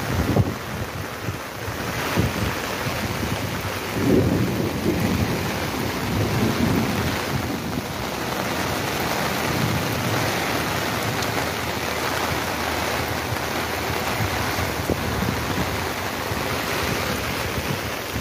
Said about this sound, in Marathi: पावसाचा आणि वाऱ्याचा जोर बघू शकता आपण।